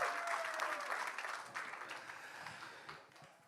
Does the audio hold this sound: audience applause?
yes